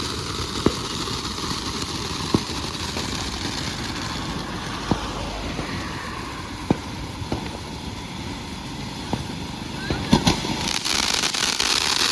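Diwali firecrackers go off as a series of sharp, separate bangs spread through the scene, some close and loud, over a constant background hum, with a cluster of cracks near the end.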